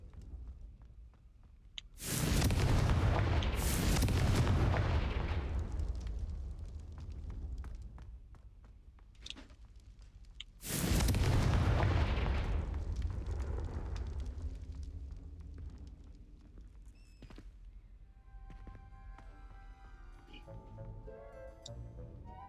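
Confringo fire spells blasting in the video game Hogwarts Legacy, two loud roaring explosions several seconds apart, each fading into crackling debris and rumble, with soft game sounds between.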